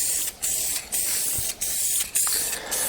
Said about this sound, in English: I'm not spraying into the exhaust ports.